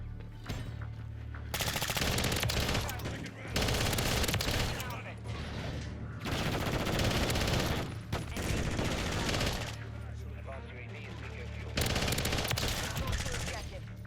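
Loud SMG fire in Call of Duty: Modern Warfare III, heard as long automatic bursts of rapid shots separated by short pauses, over a constant low hum.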